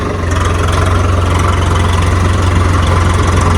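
A Swaraj tractor engine runs loud and close at high revs, a steady throbbing diesel drone with a strong low hum that holds constant throughout.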